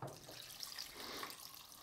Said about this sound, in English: And I'm going to go in with some cold water.